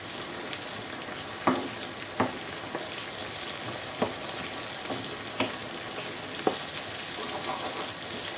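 Ingredients for an aubergine parta dish sizzle steadily in a pan, broken by occasional stirring clicks and scrapes at irregular intervals, close and fairly quiet.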